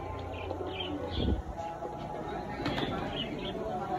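Pigeons cooing softly in a coop as they are released, with low repeated coos and faint chirps under someone talking nearby.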